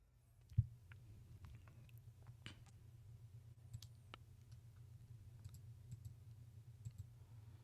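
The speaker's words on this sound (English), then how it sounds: "I'm clicking space, but it's not playing the attached video." A single sharp click of a computer keyboard's space key stands out near the start against a low steady hum, followed by faint scattered ticks.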